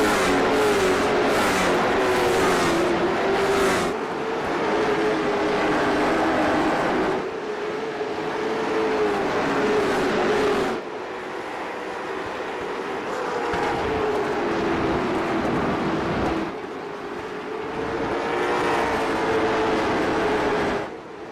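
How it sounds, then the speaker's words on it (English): Race cars storm through the front-stretch chicane of the Roval road course as the field takes the green flag: a loud, continuous engine roar rising and falling with revs and gear changes, with no talk. "field coming to green here through the front stretch chicane"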